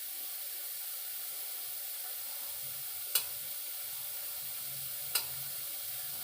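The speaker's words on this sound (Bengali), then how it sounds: "আলুগুলো একটু ভাজা ভাজা হবে" Potatoes fry in a pan for a methi dish, making a soft, steady sizzle and hiss interrupted by two sharp utensil taps a couple of seconds apart.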